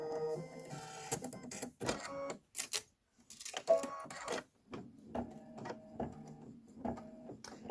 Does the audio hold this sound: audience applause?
no